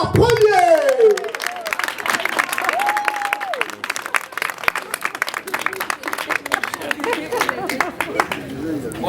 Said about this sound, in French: Veuillez applaudir pour Lazare Premier